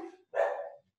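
One dog gives a single sharp, loud bark close by, with a short muffled sound just before it and silence after.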